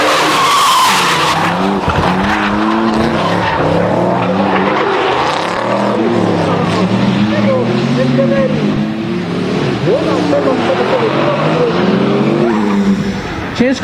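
BMW E36 Touring drifting at a motorsport club competition day, with a loud, continuous engine roar and prolonged tire squeal and skidding that rise and fall through the whole stretch, close and dominant.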